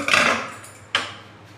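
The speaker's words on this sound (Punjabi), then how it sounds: "ਭਾਫ ਆਪਣੀ ਨਿਕਲ ਚੁੱਕੀ ਹੈ ਕੁੱਕਰ ਦੀ ਹੁਣ ਆਪਾਂ ਇਹਨੂੰ ਖੋਲਾਂਗੇ" A pressure cooker of moong-masoor dal is opened after its steam has been released: a metallic clatter of the lid, then a second sharp clink about a second later, close and alone in a quiet kitchen.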